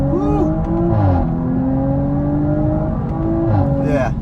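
2019 Audi RS5 Sportback engine accelerating hard in first gear, a loud steady rising drone heard from inside the car with brief exclamations over it.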